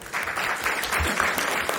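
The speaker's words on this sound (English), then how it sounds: "Please welcome, ladies and gentlemen, all of us with a huge round of applause." An audience at an Indian law and AI conference gives a round of applause, a dense burst of clapping that swells quickly and fills the room, then begins to taper off.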